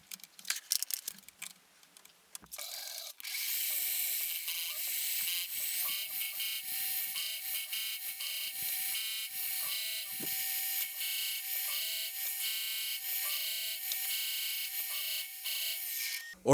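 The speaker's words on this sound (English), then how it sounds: "I'll simply come in with the cutter and mill in a slope" A milling cutter on a metal mill machines a slope into a bracket for a lathe oil filter. After a few clicks and clatters it settles into a steady, high, close whine and grind that runs on evenly with no talking.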